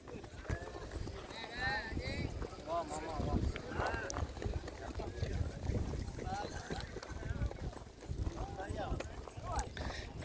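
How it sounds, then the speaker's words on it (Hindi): Many racehorses pound past at a village race in Kutch, Gujarat, their hoofbeats a steady mass of thudding under loud crowd noise and an announcer talking over the whole stretch. "बहुत घोड़े आ रहे हैं दोस्तों।"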